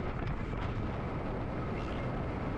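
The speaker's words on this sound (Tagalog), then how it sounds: "Hindi ko alam lakas ng hangin." Strong wind roars and buffets the microphone continuously, a dense low rumble with gusty surges throughout, while riding a Honda Winner X motorcycle.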